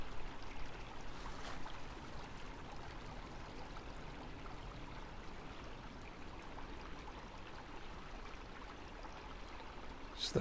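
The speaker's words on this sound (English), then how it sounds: "Just the beautiful soothing sound of the water." A stream in James Kennedy State Forest, heard as a quiet, even rush of flowing water that holds steady throughout, alone without voices.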